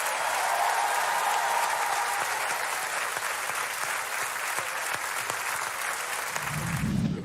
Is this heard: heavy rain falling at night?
no